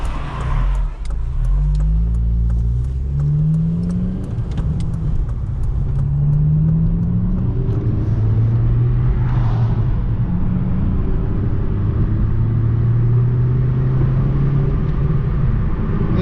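A Honda Civic Si (8th generation) engine revs hard and continuously, rising and falling in pitch with a deep rumbling roar that stays loud and close throughout.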